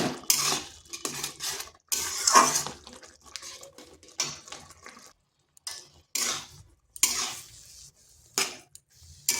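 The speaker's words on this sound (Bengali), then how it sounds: "এইভাবে নেড়ে চেড়ে এটাকে একটা শক্ত ডো তৈরি করতে হবে" A spoon stirs and scrapes semolina and water into a stiff dough in a pan over low heat, giving repeated uneven bursts of close scraping and knocking with short pauses between strokes.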